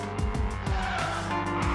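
Mazda Miata race cars drifting at a racing event, tires squealing loudly and continuously with engine roar over nearly two seconds, close by and without voices.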